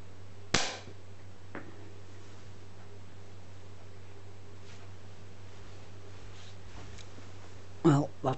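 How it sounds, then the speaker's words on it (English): A Slavia 618 .177 air rifle fires an RWS Super Hollow Point pellet, one sharp close crack near the start, followed by quiet hum, a faint click and later a brief louder rustle or knock. "the first shot I'm going to be taking will be with the Super Hollow Point RWS, and I'm going to take that now"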